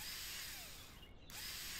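A power drill in the construction game ContractVille whirs in a steady high-pitched buzz that briefly cuts out near the end and then resumes, fairly quiet and alone.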